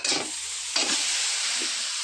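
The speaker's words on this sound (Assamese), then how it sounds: "মই নাৰিকলটো ভাজি লৈছোঁ" Coconut frying in a pan on a gas stove gives a steady hissing sizzle, with two brief bursts of stirring near the start and middle.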